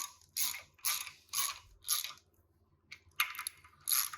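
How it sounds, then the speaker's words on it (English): Clamping bolts on a press bolster are tightened by hand, producing several short, quiet clusters of metallic ratcheting clicks separated by brief pauses. "And then I'll go ahead here and tighten down these clamping bolts, hand tight."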